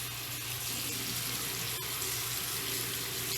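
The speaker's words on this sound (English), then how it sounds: "Rinse the brush under the water. Just run it under here" A makeup brush is rinsed under a running tap, giving a steady, close, continuous wash of water splashing into a sink with no break.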